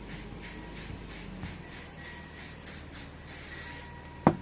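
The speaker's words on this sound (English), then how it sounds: "Pull off the wheel. We'll spray it down." Rapid repeated hissing bursts of a spray bottle spraying cleaner on a drag car wheel, about a dozen quick pumps in a steady rhythm, close up, ending with a sharp knock.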